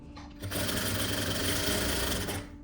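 A sewing machine stitches a vest in one steady, loud, continuous whirring run lasting about two seconds, starting and stopping abruptly, with no talking over it.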